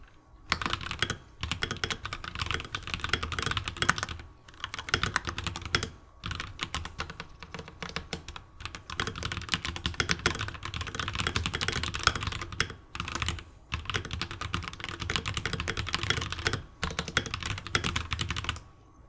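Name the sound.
typing on RK61 Plus budget mechanical gaming keyboard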